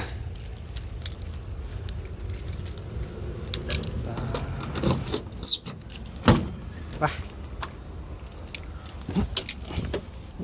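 A bunch of keys jangles up close in a parked bus, in several irregular bursts with a few metallic clicks and knocks, while a person mumbles quietly in between.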